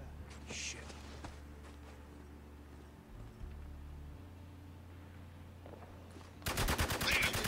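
Bursts of rapid automatic gunfire erupt in a Spec Ops: The Line battle, loud and close near the end after a stretch of quieter combat noise and rumble.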